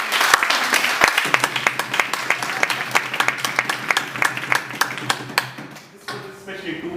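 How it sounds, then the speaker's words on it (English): A small audience at a Toastmasters-style club meeting gives a round of applause, with individual close claps clearly audible in a steady patter that fades out before a voice starts speaking. "Can we give a big applause to this guy"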